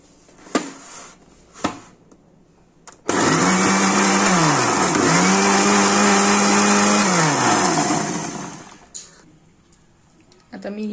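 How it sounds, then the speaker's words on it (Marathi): A mixer grinder blending tomatoes with a small piece of ginger into a purée, starting abruptly and whirring loudly for about six seconds with shifting motor pitch, then winding down, with a few knocks before and after. "आता हे आपण मिक्सरला बारीक करून घेणार आहोत"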